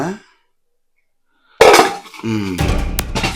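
Metal cooking pots clank and rattle as they are handled, with a loud clatter after a stretch of silence, then ringing knocks and a bright metallic clink.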